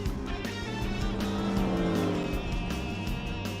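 Race car engine in Gran Turismo 4 holding a loud, steady high-revving drone as it pulls alongside to overtake, with a rising whine across the pass and no voices over it.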